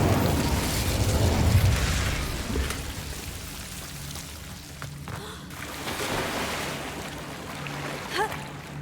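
Incendio fire spell cast in Hogwarts Legacy, a broad whooshing roar of flame with heavy low rumble that swells early and then fades into a softer crackling wash, with a brief flare near the end.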